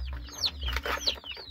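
A hen clucks softly among her young chicks, whose high, thin peeps sweep downward several times over the close, low clucking, with no talking.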